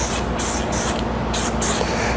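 An aerosol spray can lays down a coat of primer paint in a loud, close, continuous hiss. Brief gaps between passes break it into several bursts, with no talking.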